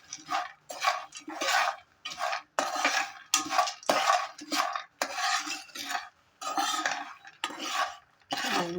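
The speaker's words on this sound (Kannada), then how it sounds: "ಇವಾಗ ಇದಕ್ಕೆ ರೋಸ್ಟ್ ಮಾಡಿರೋದು ಕಡಲೆ ಬೀಜ ಆ್ಯಡ್ ಮಾಡಿ ಲೋ ಫ್ಲೇಮಲ್ಲೇ ಚೆನ್ನಾಗಿ ಮಿಕ್ಸ್ ಮಾಡ್ಕೋಬೇಕು." A spoon scrapes and stirs roasted peanuts in a pan over a low flame for a Congress kadlebeja snack. The rhythmic strokes come in a dozen or so close, distinct bursts, with no voices.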